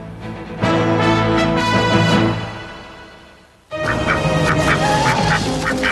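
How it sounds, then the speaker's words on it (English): Ducks quack in a loud, steady burst of overlapping calls, then after a brief drop a second flock-like round of quacking resumes, close and without talk. "They're quacking ducks."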